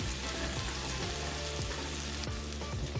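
Garlic sizzling and frying in a hot pan on lowered heat, a dense, steady crackle close up with faint stirring clicks and no talking.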